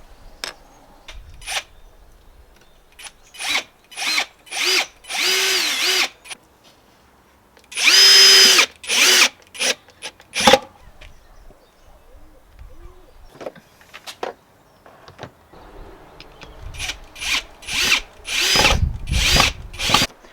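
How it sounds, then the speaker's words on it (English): A power drill drives screws up from underneath into the wood of a potting table built from IKEA parts, giving repeated whirring bursts, some short and some sustained, with pauses and handling knocks between them. "we're going to attach these in place by screwing it in from the bottom"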